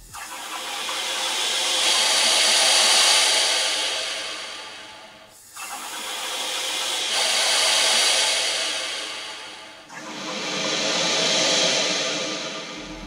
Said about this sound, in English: we can apply some compressed air into the dipstick tube and listen for air rushing into the